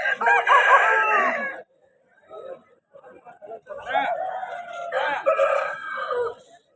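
A rooster at a fighting-cock market in Vijayawada crows loudly and close, with a long strained call at the start and more crowing and clucking from birds around it later, and a voice talking in between.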